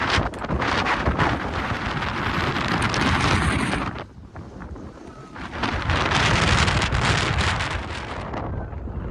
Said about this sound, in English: My phone's getting buffeted around so much by the wind